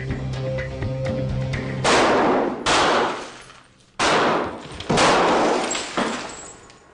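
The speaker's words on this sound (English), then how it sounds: "pumping bullets into panes of treated and untreated glass" Several loud 9mm Beretta gunshots with hollow point bullets fired into panes of treated and untreated laminated glass at a gun range, each sharp crack followed by a burst of shattering glass, arriving in irregular bursts close by.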